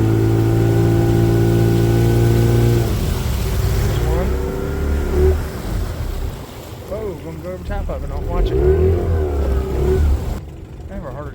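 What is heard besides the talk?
small boat engine running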